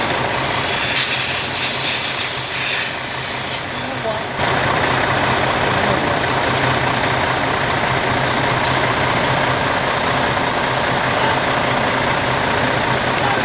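Air drains from the tank of a semi truck whose tank had gone undrained for a while, with water in it. A loud, steady broadband hiss runs over the idling engine, with a brief dip partway through before it resumes at full strength.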